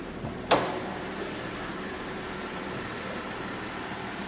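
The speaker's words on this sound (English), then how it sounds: "Just a nice quiet running Buick." A 2006 Buick Lacrosse CXS engine idles quietly, a steady hum low and even throughout, with one sharp click near the start.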